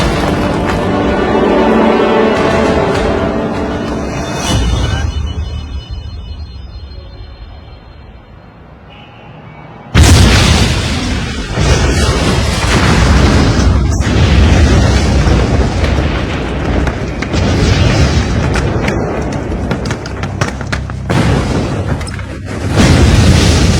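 Bombs explode in a film action scene: a low, rumbling roar fades, then one massive blast erupts and leaves a loud, sustained, crackling rumble of debris and fire.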